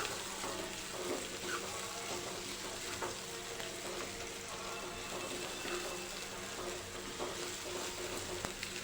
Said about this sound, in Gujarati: હવે આપણે આ લીલી ડુંગળી જે સમારી હતી તે લઈ લઈશું હલાવી લઈશું